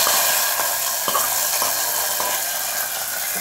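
Hot tempering poured into a clay-pot greens curry, a continuous bright sizzle and hiss with faint crackles and a few soft clinks, close and steady throughout with no talking.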